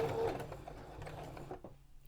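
A sewing machine runs close by, stitching a narrow fabric hem near the fold in a quick, even mechanical whir that slows to a stop near the end.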